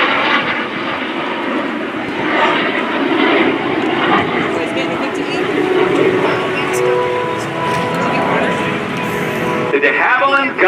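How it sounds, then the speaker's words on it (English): A DeHavilland Vampire jet with its Goblin II turbojet engine flies at the NAS Oceana airshow, a loud continuous roar that holds steady throughout. "The DeHavilland Goblin II turbojet engine is what powers it."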